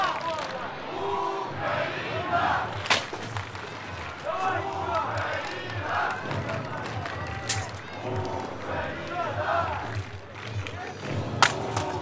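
A crowd cheers and shouts around a medieval armored combat final at the Battle of the Nations in Trogir, Croatia, with steady roaring noise and a few sharp metallic impacts standing out above it.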